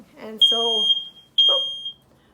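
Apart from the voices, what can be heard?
smoke alarm set off by an air fryer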